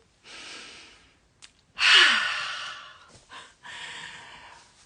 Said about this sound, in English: Just breathe in.